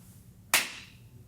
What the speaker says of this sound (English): Why'd you clap?